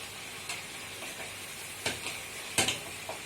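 Tomatoes and green chillies sizzling in a pan with chicken being braised, a soft steady fry with a few sharp clinks and scrapes of stirring, no talking.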